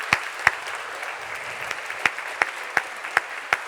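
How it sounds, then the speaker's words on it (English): Debate audience at the Cambridge Union clapping in a steady, sparse patter, with a few louder individual claps standing out at regular intervals over a soft bed of hands, moderately close and without talk. "I approve of the clapping, but let's keep it brisk"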